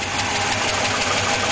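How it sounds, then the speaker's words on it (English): A 1986 Chevrolet Suburban engine idles steadily with an exhaust leak at a header, giving a continuous ticking, chattering rumble close by with no talk over it. "it's either got to be that header leaking or an extremely noisy lifters"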